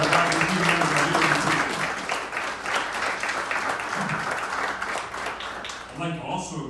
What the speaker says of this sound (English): We give them a great round of applause.